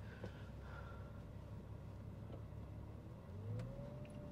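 A Bentley GT or VW Phaeton engine starting up and settling into a quiet idle, a faint whirring hum with a rising tone near the end, heard from some distance.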